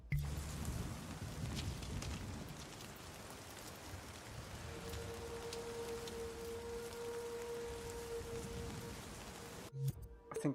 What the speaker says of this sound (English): Let us meditate in the rain.